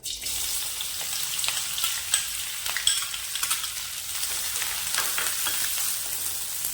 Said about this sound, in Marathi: आपण कढई गरम करून त्यात तेल टाकून घेतलेले आहे। आता आपण कांदा टाकून घेऊया।